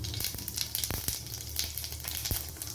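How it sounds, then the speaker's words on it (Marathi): Mustard seeds sizzle in hot oil in a pan, a close, continuous hiss broken by sharp popping crackles at irregular moments. "मोहरी टाकायची आहे।"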